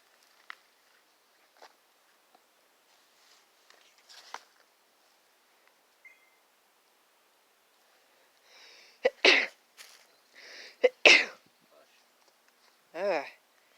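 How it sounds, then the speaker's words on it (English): Faint taps and rustles give way to a sudden sneeze, followed by a few short sniffs and a voiced exhale nearby, during a tour at the Charlotte gold mine. "Just a sneeze."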